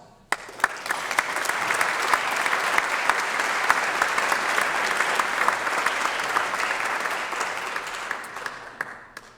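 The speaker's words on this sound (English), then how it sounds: "So if you're a veteran, raise your hand and give us a round of applause." Sustained audience applause for veterans at a chamber of commerce small business awards event, a dense, even wash of many hands clapping that begins sharply, holds steady for several seconds, then tapers off.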